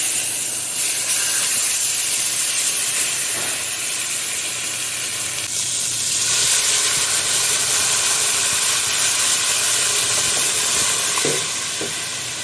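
Beef simmering in a covered pot for Jamaican beef patties gives a steady, moderately loud sizzle and hiss, with a few soft clinks near the end.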